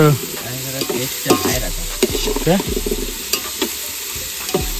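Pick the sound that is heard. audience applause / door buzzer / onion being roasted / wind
onion being roasted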